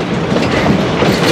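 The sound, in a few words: Cumbres and Toltec scenic railroad train running on rails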